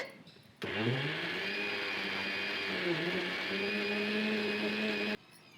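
A mixer grinder blends boiled, peeled sweet potato for halwa, starting abruptly into a loud steady whirring drone that holds for about four and a half seconds before cutting off.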